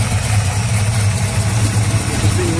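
A 1964 Plymouth Belvedere with a rebuilt 426 Max Wedge V8 idles in a steady, close, low rumble, uniform and continuous throughout.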